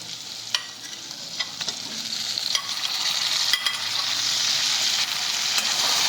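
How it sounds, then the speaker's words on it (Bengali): Fried papaya and potatoes cooking with spices in a pan for a vegetarian dalna, a steady close sizzle broken by periodic scraping and tapping stirs of a spatula, with no voices. "নেড়ে চেড়ে আরেকটু কষিয়ে নেব"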